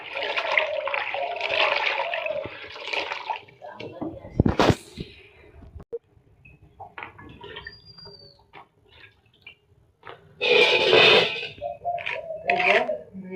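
Cut pointed gourds being washed by hand in water, with splashing, dripping and trickling in bursts, close by, separated by quieter pauses; a voice speaks between the bursts.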